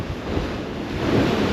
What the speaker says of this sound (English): I can see a big wave on its way.